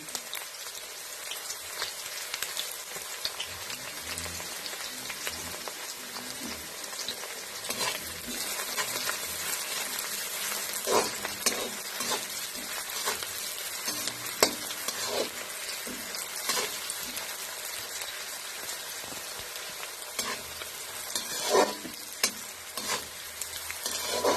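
Two large onions and two green chilies frying in a pan for a brinjal-tomato bhorta, giving a continuous soft sizzle with scattered pops and crackles throughout, fairly quiet and close, with no voices.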